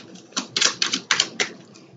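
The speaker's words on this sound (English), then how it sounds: "sorry I stopped shuffling" Tarot cards being shuffled by hand, a close series of crisp papery riffles and slaps in quick uneven bursts, alone without talk.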